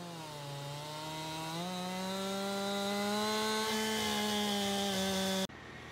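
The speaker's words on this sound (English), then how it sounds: "He had a chainsaw." Chainsaw in the video game Farming Simulator 22, a steady buzzing engine drone whose pitch creeps upward as it revs, holding loud and even before cutting off abruptly near the end.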